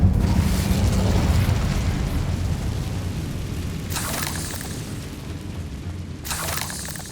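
Incendio fire spell in the video game Hogwarts Legacy, a sustained roaring whoosh of flame with two sharper flare-ups, loud and continuous throughout.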